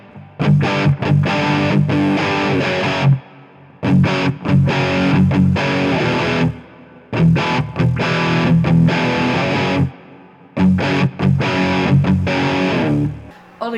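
Distorted electric guitar strummed in a song, played as four loud, dense phrases separated by short pauses, with no talking.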